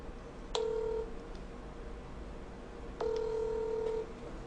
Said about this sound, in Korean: 나 엄마한테 전화한다 충전해달라고?